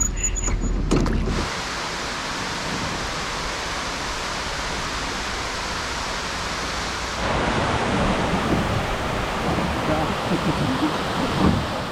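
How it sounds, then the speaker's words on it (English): Manai Falls, a waterfall 17 meters high, gives off a steady, broad rushing hiss that fills the scene without a break, growing a little louder partway through. "This waterfall is called Manai Falls, and it's 17 meters high."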